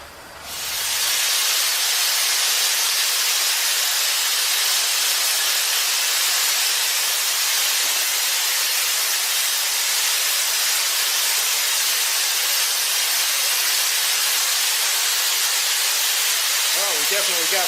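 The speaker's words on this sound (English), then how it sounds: "Well, we definitely got steam." Workshop steam engine releasing a loud, continuous hiss of steam that starts after a brief quiet moment and holds steady and near throughout, with faint rhythmic chuffing toward the end.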